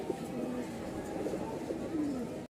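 Diamond doves held in a cage give soft, low, repeated coos over a constant background hiss, the calls close and gentle.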